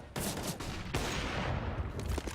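Counter-Strike gunfire in a professional esports match, with rapid bursts of shots sounding close and sharp, a brief pause, then another burst trailing into fainter popping.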